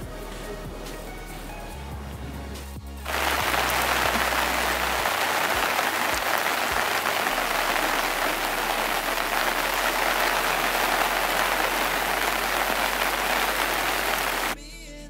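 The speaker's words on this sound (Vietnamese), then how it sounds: "Hôm nay là một ngày mưa to gió lớn ở Huế" Heavy rain and strong wind in Hue, Vietnam: a dense, steady roar of downpour that starts abruptly after a few seconds of music and continues loud and unbroken, with no talking over it.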